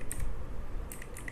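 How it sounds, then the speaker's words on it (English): Keystrokes on a computer keyboard, a short run of quiet, close clicks at an uneven pace over low background hum. "now I'm gonna type"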